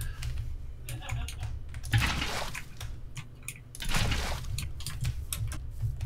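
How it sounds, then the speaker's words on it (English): Fingers type on a computer keyboard in quick, uneven bursts of close clicks and clatter over a low background hum, with no one speaking. "It's me typing back to Brent."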